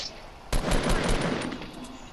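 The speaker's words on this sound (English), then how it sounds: "someone's shooting at me" Rapid automatic gunfire in a Fortnite match bursts in suddenly and keeps going as a dense, loud volley of shots. It sounds close.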